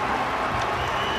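A rugby league stadium crowd at Salford versus Hull roars in a brief, loud, continuous wash of cheering and clapping after a successful goal kick.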